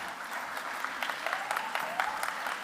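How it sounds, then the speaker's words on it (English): Audience applause for an event MC, a steady patter of many hands clapping at moderate distance, fairly soft, with a murmur of voices underneath. "Please give a big round of applause for our beautiful Chinmayi"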